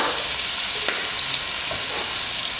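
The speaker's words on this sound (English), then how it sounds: "And I'm adding spring onions. Just give it a good mix." Tomato chicken stew with spring onions simmers and sizzles steadily in a pan while being stirred. A dense, constant frying hiss with a few soft scraping sweeps of the utensil against the pan.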